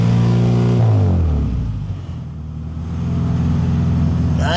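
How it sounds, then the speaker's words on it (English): Honda Del Sol engine revving up, dropping back toward idle, then climbing again, loud and close with smooth droning tones. "Give me a little rev, Joe."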